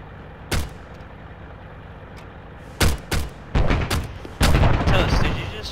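Several heavy blasts from a rocket launcher fired in ArmA during an EOD operation in Kunduz, Afghanistan, spaced booms over a steady low background, one isolated and then a cluster close together, loud and near.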